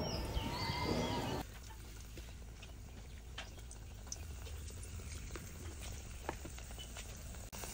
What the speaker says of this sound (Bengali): এবার ব্যাটারটা লাগিয়ে তেলটা মাঝারি আঁচে রেখে ভালো মতো প্রথমে গরম করে নিয়েছি, তারপর মাঝারি আঁচে রেখে ভেজে নিচ্ছি।